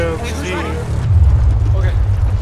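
Vehicle engine in the PUBG video game, a steady low rumble that swells louder midway, with voices talking over the start.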